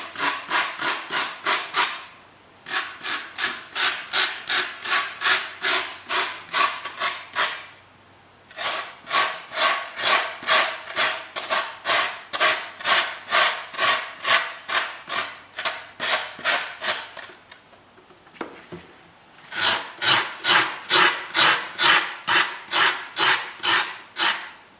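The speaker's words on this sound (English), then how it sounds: "Just smoothing out some of these sharper corners," Long rhythmic strokes of sanding or filing rounding off the sharp corners of a fiberglass-covered air box shell, close and steady in repeated bursts of back-and-forth rubbing with brief pauses between runs.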